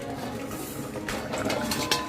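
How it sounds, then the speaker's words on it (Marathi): A metal lid clinks as it comes off a pot of Malvani clam, drumstick and potato curry simmering after kokum is added, with a few light clatters over steady background noise. "कोकम टाकून आपण हे झाकण बाहेर बाजूला करूया"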